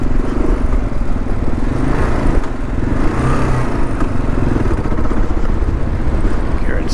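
A 2022 Kawasaki KLR650 motorcycle engine pulls steadily under load in first gear climbing a hill, a continuous throaty drone with little change in pitch, close and loud.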